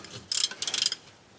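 Ratchet clicking in two quick bursts while tightening the rear differential plug on a 1988 BMW 325 E30, close and fairly quiet.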